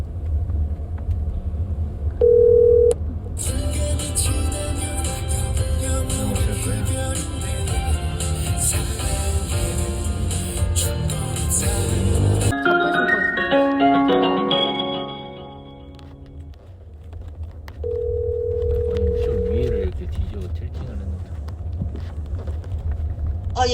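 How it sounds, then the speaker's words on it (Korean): A phone ringback tone on an unanswered call, heard as two short steady tones, one early and one near the end, under constant vehicle rumble and background noise. "엄마가 전화를 안 받는데?"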